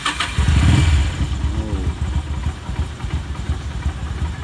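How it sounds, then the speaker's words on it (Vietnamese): A Vento V Thunder XL 250cc motorcycle starts with a short starter whirr, then settles into a steady, close, low idle, with no talk over it. "nổ máy thử ha"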